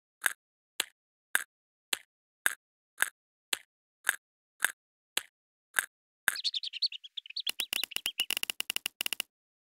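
Hungry chicks in a mobile feeding game chirp in ten evenly spaced bright electronic peeps, then break into a denser cluster of rapid chirps and a fast clattering burst toward the end, loud and clear with no talk.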